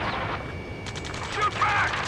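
Gunfire in the combat video game Ace Combat 7: Skies Unknown, heard as a rapid burst of shots midway through, over faint background noise and a voice.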